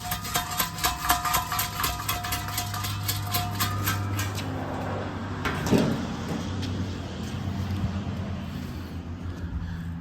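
A running engine sets up a droning, resonating rumble in its exhaust and muffler, a steady low hum with rapid rattling pulses early on and a loud boom partway through.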